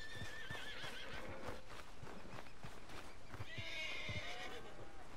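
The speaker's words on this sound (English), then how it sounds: "there's a horse going crazy over there." A horse in Red Dead Redemption 2 neighs and whinnies repeatedly while its hooves stamp and clop, loud and close, with a second shrill whinny near the end over steady outdoor game ambience.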